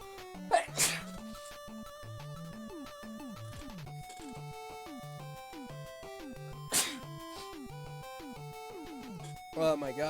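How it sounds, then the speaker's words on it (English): A person sneezes in a room, with sharp bursts near the start and again later, over steady background game music. "Oh, I'm gonna sneeze"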